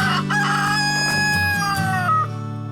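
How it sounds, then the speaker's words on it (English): A rooster crows loudly and close by, a long drawn-out cock-a-doodle-doo with other chickens clucking around it. "hang out with the chickens for a bit"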